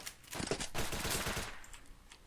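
Spaz 12 shotgun firing in the game BRAIN / OUT: a burst of rapid, closely spaced blasts, moderately loud, then trailing off.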